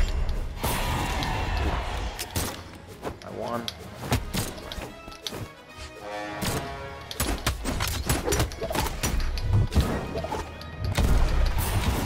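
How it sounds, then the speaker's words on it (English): Bomb striking a player in a 2v2 Brawlhalla match, a loud crash-like hit amid a dense stream of game impacts, whacks and effects, with voices talking over the action. "Oh, she landed a bomb."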